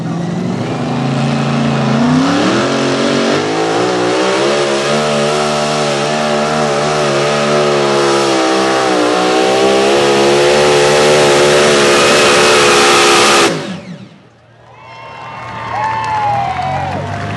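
A mini modified pulling tractor engine roars loud and close through a pull at a truck and tractor pull event, its pitch climbing and wavering as it strains. The roar cuts off sharply near the end, leaving crowd noise and an announcer's voice.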